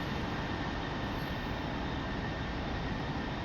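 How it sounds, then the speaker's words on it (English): An F-16C jet rolls past on the ground in the DCS flight simulator, a steady, dense engine roar and rumble at constant level with no breaks. "You see one of my other planes rolling by."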